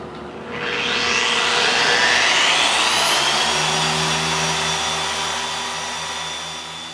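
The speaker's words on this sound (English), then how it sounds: "Dual action polishers replicate the motion of the human hand, but at speeds and power levels unobtainable by the body." Dual action polisher running on car paint at speed setting 6 during paint correction, spinning up to a loud, steady whirring drone that holds throughout, close and alone.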